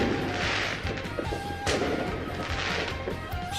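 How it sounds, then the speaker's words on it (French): Fireworks at a summer festival, dense overlapping booms and crackling bursts, loud and continuous, with sharp blasts standing out. "Voir les feux d'artifice."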